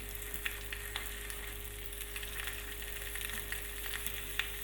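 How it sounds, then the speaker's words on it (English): Meat frying in a pan, a soft steady sizzle with scattered small crackles and pops, faint and close, with no talking. "we can start to hear the meat cooking a little bit"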